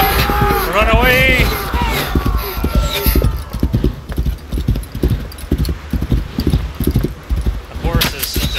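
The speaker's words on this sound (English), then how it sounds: "The horses still look terrible." Horse hooves clop rhythmically in the Viking-era game Assassin's Creed Valhalla, steady and fairly near, under game voices and a busy background.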